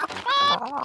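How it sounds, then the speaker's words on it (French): Chickens being fed by a grandmother in a cartoon barnyard, a quick burst of clucking and squawking, close and fairly loud, lasting under a second. "Tenez les poules, c'est pour vous."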